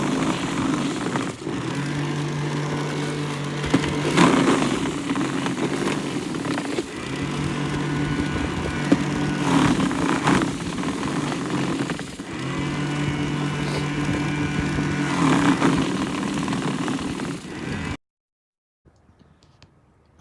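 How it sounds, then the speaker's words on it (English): A modified Snow Joe electric power shovel running on a Milwaukee M18 battery whirs loudly and close for a long stretch. Its motor pitch shifts as it works, then it cuts off abruptly into quiet. "It is a modified Snow Joe power shovel"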